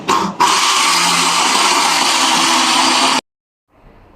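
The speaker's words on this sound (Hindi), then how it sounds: "तो अब ये छोटा मिक्सर लिया है, इसमें हम डाल के, जो ये इस तरह का बना है, ये देखिए, तो इसको इसमें डाल के ग्राइंड करेंगे।" Small kitchen mixer grinder whirring loudly and steadily as it grinds fried gram flour (besan) for laddus, starting with a short burst, running about three seconds, then cutting off abruptly into silence.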